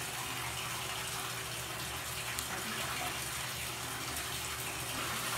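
Tap water runs steadily from a faucet while hair dye is rinsed out at a sink, a constant broadband gush with no speech over it.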